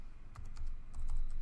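Quick bursts of keystrokes on a computer keyboard as a password is entered, several light clicks close by over a soft background hum.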